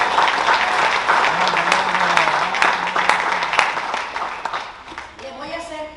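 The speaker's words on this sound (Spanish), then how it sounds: "Denle un aplauso al Señor" A church congregation applauds during a Spanish-language sermon, a dense burst of clapping that fades toward the end while a voice rises over it.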